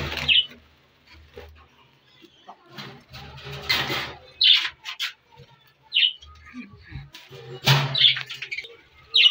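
Bright, high parrot chirps come in short bursts at irregular moments, mixed with low coos and some quiet rustling in between.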